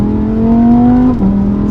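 Lamborghini Huracan engine revving while driving in mud, a loud close steady drone that rises slowly in pitch, then drops with a shift and settles into a lower hum.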